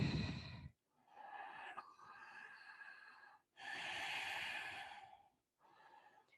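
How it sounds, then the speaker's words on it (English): Slow, deep breathing during a yoga lunge pose: a long exhale, then long inhales and exhales with a slight wheezy rasp, close to the mic and quiet, with short pauses between breaths. "Breathe."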